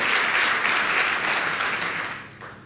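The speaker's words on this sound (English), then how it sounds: "Let's give them a round of applause." Warm applause at a charity giving celebration, a crowd clapping densely and evenly before the sound gradually thins and tapers off near the end.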